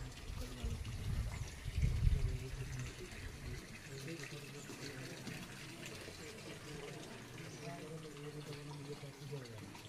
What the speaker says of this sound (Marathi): हे इकडं पाणी येत आहे. हे आपल्या इकडे नॅचरल पाणी येत आहे.